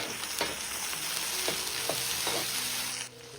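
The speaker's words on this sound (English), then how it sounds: "Keep the heat high. Fry the onions until golden brown." Onions fry over high heat in lightly smoking oil for chicken plov, a loud, constant close sizzle and crackle with a few soft clinks of a utensil, then a brief dip near the end.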